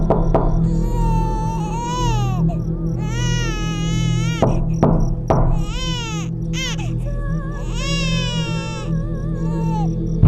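An infant wails in repeated long, rising and falling cries with short breaks between them. The cries are loud and close over a steady low drone.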